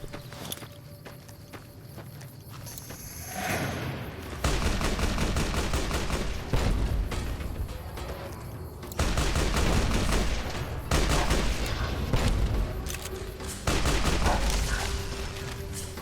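Gunfire and grenade blasts in the Fallout: New Vegas video game, a series of loud, heavy bursts and rapid shots that come in separate bangs after a quieter opening, with no talking.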